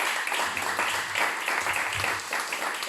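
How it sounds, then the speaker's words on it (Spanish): A church congregation claps together in a steady, moderately loud wash of applause, with no voices heard over it. "Dale un fuerte aplauso por todo tu corazón."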